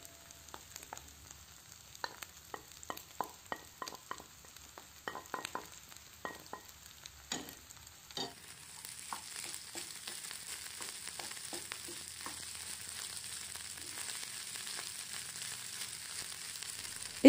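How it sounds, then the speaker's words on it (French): Fried rice with eggs and vegetables being stirred in a hot pan, with sizzling frying under scattered utensil scrapes and clicks that thicken into a steady, louder hiss partway through; no talking. "je rajoute les légumes et je mélange le tout"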